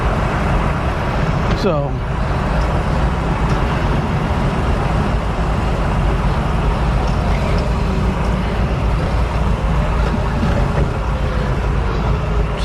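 A 1968 Chevy II Nova Super Sport runs with a loud, steady exhaust rumble close by, a low continuous drone that carries on throughout. Someone speaks over it.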